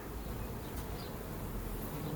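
Dense, continuous buzzing of many honeybees close by around an open hive, a steady droning hum with no talking.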